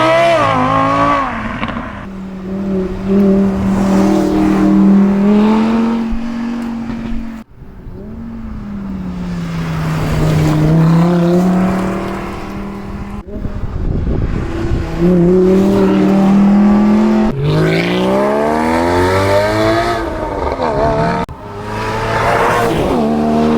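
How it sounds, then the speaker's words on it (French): Porsche sports cars, including a GT3, arrive at a supercar charity gathering, with loud passing engines revving and shifting through gears, rising and falling pitch sweeps one after another, close by with no talk. "Les Porsche ils sont arrivés tous ensemble, la GT3 là, elle est vraiment cool aussi."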